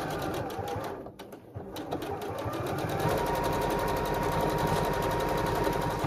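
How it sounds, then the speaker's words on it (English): A sewing machine stitches a quarter-inch seam around the edge of a fabric heart for a crumb quilting scrap project. The needle chatters in a fast, even rhythm, close and continuous, pausing briefly near the start and then running steadily. "I'm just gonna sew a quarter inch along the perimeter of the heart"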